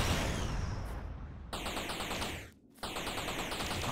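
Enemies fire sustained automatic gunfire at the player in the Space Trash Scavenger game, a dense rattling burst that cuts out briefly twice and resumes, loud and close.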